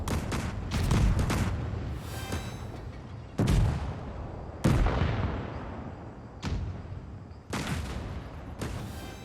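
Loud, booming tank cannon blasts from the video game World of Tanks fire one after another, each with a sharp crack and a long rumbling decay, about five shots spread over several seconds.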